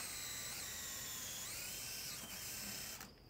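A power drill whines steadily while boring a hole through a shed wall, a close, high-pitched motor tone that shifts pitch slightly as it bites, then stops abruptly near the end.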